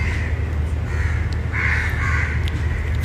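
A flock of crows keeps up loud, rasping caws, a denser burst of calls rising midway over a continuous low background hum, with no one speaking.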